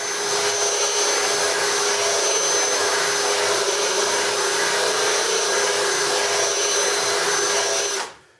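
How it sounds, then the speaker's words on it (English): A loud, steady high-pitched grinding whine from a power tool with a carbide bit grinding metal runs without a break, then cuts off abruptly at the end. "I like to start out with a carbide bit, and basically you just start grinding on the inside."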